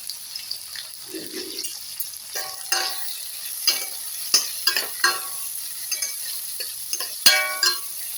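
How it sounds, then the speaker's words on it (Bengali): Ginger paste with turmeric fries in a pan, a soft continuous sizzle punctuated by repeated scraping stirs of a spatula, close and fairly quiet, with a short voice murmur early on. "আদা বাটাটা দিয়ে আমি একটু ভালো করে ভেজে নেব"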